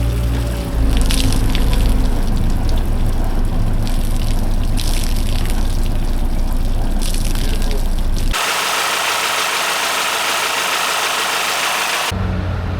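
Catamaran boat engines run on a trailer before launch, a steady loud engine drone with watery trickling, cutting abruptly to a different hiss near the end.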